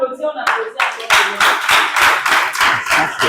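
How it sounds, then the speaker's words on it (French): Students at a school in Abidjan clap for a student team in loud, rhythmic, unison bursts following a brief moment of other sound at the start. "Bravo, hein. On applaudit."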